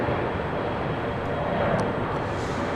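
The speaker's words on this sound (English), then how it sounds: "CRJ taking off on 25 right" A CRJ regional jet takes off on runway 25 right at LAX, heard as a steady, broad rumbling roar at moderate distance with no voices over it.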